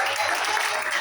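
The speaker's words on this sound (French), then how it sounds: "si vous pouvez encore acclamer pour mon papa" Audience applause at a church event, a dense steady wash of clapping from a crowd, loud and continuous throughout the brief moment.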